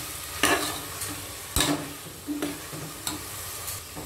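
Rice being stirred in a pan for plain biryani-style kushka rice, giving a steady low sizzle with several distinct scraping strokes of a spoon spaced about a second apart, close and clear with no talking.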